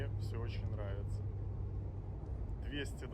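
Steady low rumble of a 2022 Mercedes G63 4x4 Squared with new portal gearboxes driving at speed, heard from inside the cabin, with people talking over the continuous road and engine drone.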